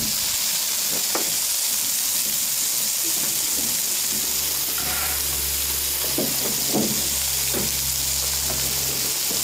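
Chicken pieces sizzle steadily in a hot pan while being stirred, a continuous loud frying hiss with occasional scrapes and clinks of the utensil, close by and with little talk over it.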